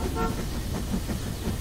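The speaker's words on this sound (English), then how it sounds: "Train is going through a tunnel." A cartoon toy train gives a short, bright toot early on as it rolls through a tunnel, then a soft, steady rumble of movement continues beneath it.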